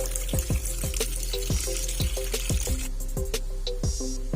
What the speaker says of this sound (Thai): เดี๋ยวรอมันสุกเราก็จะมาล้างสาคูนะคะเปิดน้ำเนาะ